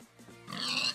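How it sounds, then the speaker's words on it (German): A pig in the video game Minecraft gives a few short nasal grunts, then a brighter, higher squeal-like oink, all close and fairly quiet. "Das ist noch ein Schwein."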